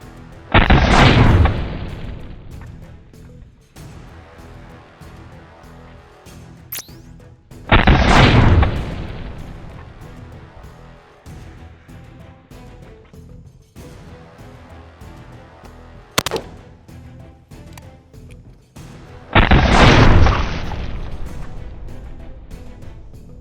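An AKM rifle fires at combat helmets on a range: three loud, separate shots spaced several seconds apart, each a sharp blast with a brief rolling echo, and a quiet lull between them.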